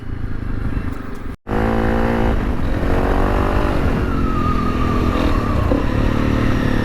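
A Honda CRF300L Rally motorcycle ridden through bush, its engine droning loud and close with rising revs and some clatter after a brief cut at the start.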